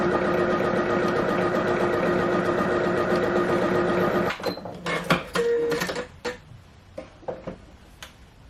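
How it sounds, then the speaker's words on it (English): A sewing machine stitches the shoulder seams of a knit cardigan in a continuous whirring run for about four seconds. It then stops, leaving scattered ticks and clicks from the machine. "I'm just sewing those bits together now at the shoulder seams."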